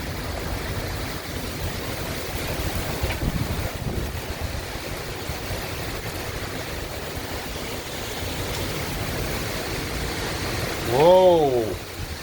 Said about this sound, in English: Very strong wind gusts. See the rain coming in sheets.